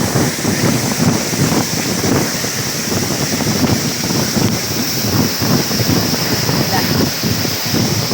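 Buruwisan falls rushing, a loud steady broadband roar of falling water with wind noise on the microphone, up close and continuous, with occasional voices under it.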